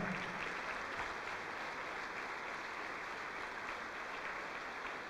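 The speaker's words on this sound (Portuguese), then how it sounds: "Vamos aplaudir, igreja." A church congregation claps together in sustained, dense applause that fills the room evenly and steadily without a break.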